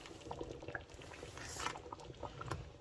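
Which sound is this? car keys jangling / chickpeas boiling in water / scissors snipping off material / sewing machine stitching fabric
chickpeas boiling in water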